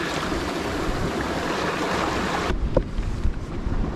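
Sea waves washing against coastal rocks as the tide floods in at a rock-fishing spot in the UK, a loud continuous rushing roar that drops suddenly, leaving quieter sloshing and splashes close by.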